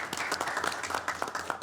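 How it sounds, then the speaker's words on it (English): A meeting audience at a transportation authority board session claps briefly, a short burst of scattered, moderately faint applause. "Give her a big round of applause."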